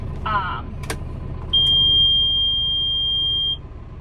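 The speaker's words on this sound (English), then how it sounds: "I don't know what that beeping was about." A single high-pitched electronic beep holds steady for about two seconds, loud and close, over a low outdoor rumble on a farm during hay mowing, with a brief chirpy sound before it.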